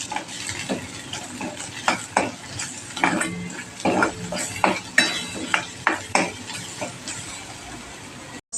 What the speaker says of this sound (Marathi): मसाले छान तेलामध्ये परतेपर्यंत आपण वड्या पाडून घेऊ